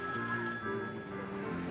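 A telephone bell rings steadily and close by indoors in a 1970s American detective drama, its sustained ringing tone filling the short moment with no talk over it.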